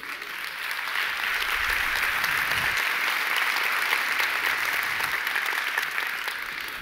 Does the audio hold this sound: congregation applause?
yes